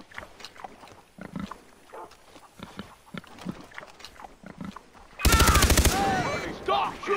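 Gunfire in Far Cry 3 erupts suddenly as a loud, rapid burst of automatic shots near the end, after a stretch of quiet talk and ambient sounds; pig grunts and squeals mix in.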